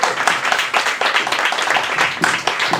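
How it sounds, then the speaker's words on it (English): Audience applause after a poet's set at a KGB Bar open mic night, a dense, steady patter of many hands clapping close by, fairly loud and continuous without pause. "One more round of applause."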